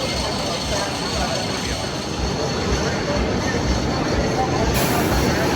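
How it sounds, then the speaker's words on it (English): A roller coaster train at Knoebels Amusement Resort rumbles in at night with steady, loud, broadband rolling noise and a faint high whine, continuous throughout with no pauses. "Here comes our train."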